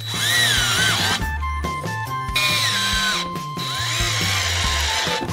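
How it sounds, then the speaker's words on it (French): A power screwdriver whines in loud, close bursts, driving screws into plywood, its motor pitch rising and dropping as screws drive in, with brief pauses between runs. "armez-vous d'un tournevis et de vis. On visse le contreplaqué."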